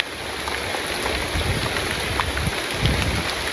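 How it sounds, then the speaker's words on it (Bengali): Rain and wind outside during the rainy season in a rural village make a steady, dense hiss that carries on unbroken without any voices. "বাইরে জুড়ে বাতাস আর বৃষ্টি শুরু হয়েছে"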